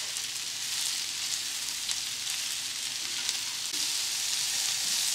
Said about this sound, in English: you add 2 cups of sliced mushrooms. And just cook that gently for about 3 minutes.